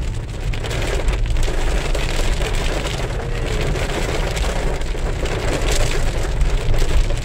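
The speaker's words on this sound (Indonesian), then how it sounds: "Hujan barokah bulan puasa." Rain falls on a Toyota Hilux pickup in Palembang, a loud, dense, continuous patter drumming on the body over a low steady rumble, with no talk.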